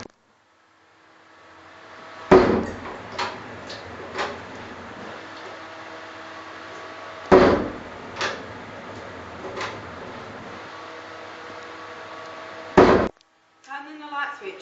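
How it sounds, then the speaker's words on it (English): Household doors opened and closed repeatedly: three sharp, loud bangs spaced several seconds apart, with softer knocks and creaks between them over a quiet room hum, then a brief rustle at the end. "opening and closing up doors before going out."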